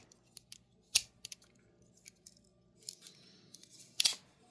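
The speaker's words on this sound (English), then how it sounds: "And then, of course, I have the scissors in the middle." Scissors of a custom Swiss Army knife opened and snipping, a string of small crisp clicks and cuts with one or two sharper snaps, close and quiet, no talk.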